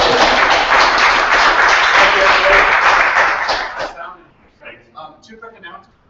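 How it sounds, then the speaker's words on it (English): Loud, dense applause from attendees at an air quality meeting fills the room for about four seconds, then stops abruptly and a voice begins talking. "I think we're ready to applaud."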